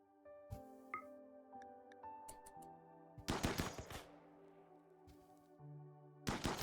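Gunfire rings out in a RimWorld desert game as colonists shoot out a wall: loud, rapid bursts of shots in separate clusters, with sustained tonal game sounds beneath.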